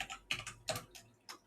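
Several quick, separate keystrokes on a computer keyboard come in an uneven rhythm, close and fairly quiet, with no voice over them.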